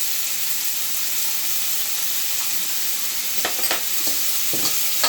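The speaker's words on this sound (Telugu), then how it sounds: "ఇది ఇక్కడ ఉల్లిపాయలు వేగాలండి బాగా. చూడండి ఇక్కడ ఇది వేగుతుంది." Onions frying in a pan for an Indian egg drop curry give off a dense, steady hiss of sizzling oil with a few sharper crackles and stirring scrapes near the end, heard close and without talk.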